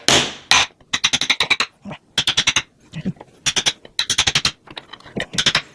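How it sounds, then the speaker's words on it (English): Rapid clusters of sharp metallic taps, a hammer striking a cleaver through a block of chocolate, close and loud in repeated quick bursts. "It's a little noisy, but that's the only way you can do it. So I have here a hammer and a cleaver."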